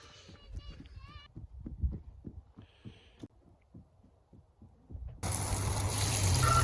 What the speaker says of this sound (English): turn the valve on, and just show that it works.